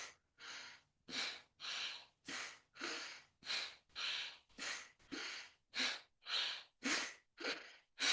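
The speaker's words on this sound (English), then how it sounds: "Inhale left, exhale right, inhale right, exhale left." Rhythmic alternate nostril breathing, a steady series of about fourteen close, airy inhales and exhales through the nose, each breath evenly spaced and separated by brief silence.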